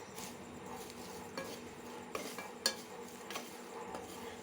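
Fried curry leaves and garlic are stirred into a dried shrimp sambal in a pan, giving a steady scraping, shuffling stir with a few sharper knocks against the pan and a faint sizzle underneath.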